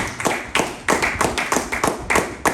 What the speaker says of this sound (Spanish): denle una ofrenda de palmas fuerte al Señor